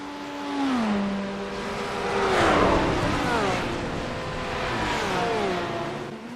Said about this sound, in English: Cars were going everywhere.